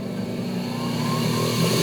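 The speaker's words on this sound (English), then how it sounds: "Our grinder going." A bench grinder runs steadily as a wood-handled punch is reshaped against its wheel, a continuous close motor whine with grinding hiss and slight rise in level toward the end.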